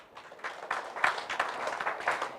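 Light applause from a church audience of adults and children, a brief scattered patter of clapping at modest volume that stays fairly even and then trails off.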